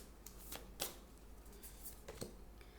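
Tarot oracle cards being shuffled to draw an advice card, a few soft, quiet riffling and slapping sounds spaced irregularly with no talking.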